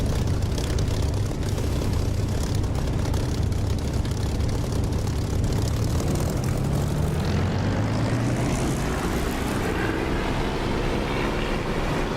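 A simulated propeller aircraft engine in the DCS flight simulator game throttles up, a loud continuous drone that rises steadily in pitch over several seconds, with no voices.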